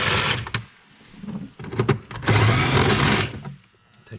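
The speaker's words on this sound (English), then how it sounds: "we need our T40 body bolt. Put that on the impactor." An impact driver with a T40 bit whirs and hammers in short bursts, backing out body bolts on a Polaris RZR XP side-by-side. Two or three close, loud runs are separated by brief pauses.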